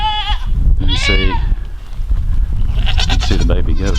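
Baby goats bleat in a barn lot, with several close, wavering calls overlapping one another. Low talk and rustling continue underneath.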